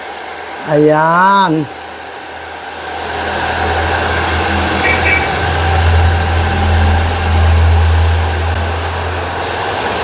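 A hair blower runs steadily, pushing air onto a client's hair during a Kerastar Kera Gloss hair Botox treatment in a salon, with a continuous loud whooshing hum after a short spoken word at the start.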